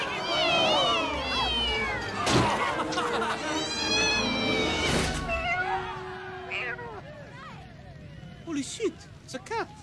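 A cat meows repeatedly at the scene of a fire, high wavering cries mixed with excited voices and background commotion, loud and close, with sharper meows continuing after the shouting eases.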